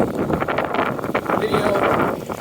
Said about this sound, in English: super cold, super windy